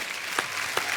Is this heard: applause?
yes